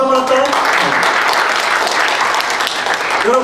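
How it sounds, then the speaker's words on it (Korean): A church congregation claps together at an evangelism gathering, a dense, steady wash of hands lasting a few seconds, with a voice briefly heard at the start and again at the end. "박수 한번 할까요?"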